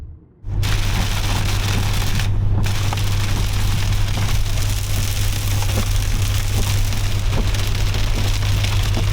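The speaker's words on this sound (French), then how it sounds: "Il pleut énormément." Heavy rain pouring down in a dense, continuous hiss of drops striking surfaces, loud and close, steady for several seconds under a low constant hum after a brief quiet start.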